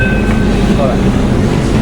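Steady loud rumble and whine of a Pune metro train carriage while riding inside, empty of passengers, a continuous drone with faint rail noise and no talking.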